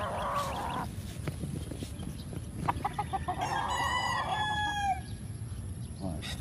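Roosters crow in drawn-out calls amid chickens clucking on a gamefowl breeding farm, several birds near and farther off, with brief background sounds.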